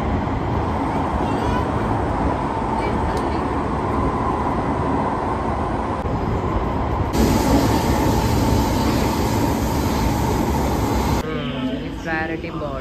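A Singapore metro train: a loud, continuous rumble and rolling hum from inside a carriage, with a brief higher whine partway through and a chime-like tone near the end, under some nearby talking.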